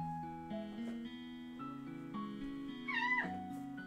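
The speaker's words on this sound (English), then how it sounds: "It's a kitty." Pet cat Tap Tap or Dobby meowing indoors: a drawn-out, wavering meow rises and falls against a bed of steady tonal music, clear but not loud.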